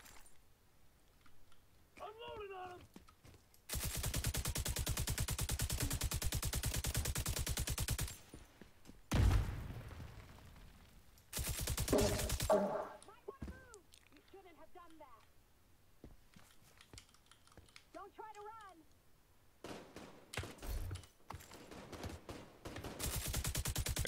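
Gunfire from The Division 2 comes in dense, loud automatic bursts separated by quieter gaps, with someone talking in between.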